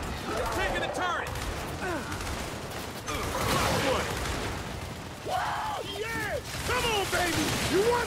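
Rapid turret gunfire in the shooter game Gears 5 rattles continuously under frantic shouting and chirping effects, a dense, loud barrage with brief lulls.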